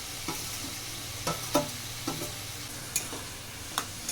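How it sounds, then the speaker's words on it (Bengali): Cabbage with a hilsa fish head is stirred in a frying pan for a Bengali cabbage ghonto, giving a steady low sizzle broken by a few sharp scraping clicks of the spatula. The sounds come close up, with no talking. "খুব ভালো করে নেড়ে দেব"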